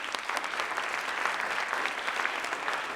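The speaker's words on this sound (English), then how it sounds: "Let's give them all a big round of applause." An audience at a school district State of the District event applauds for elected officials, a dense, steady wash of many hands clapping at moderate volume with no speech over it.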